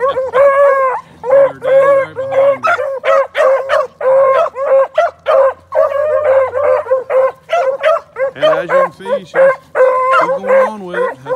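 A young borderline puppy yips, whines and gives short high barks in rapid, uneven bursts, close and fairly loud, with a few howl-like cries mixed in.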